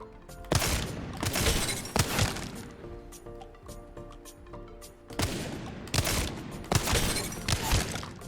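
Wingman pistol from Apex Legends fired at a training dummy: sharp, cracking shots in two clusters, a quick burst near the start and another after a pause, each shot loud and close with short ringing tails.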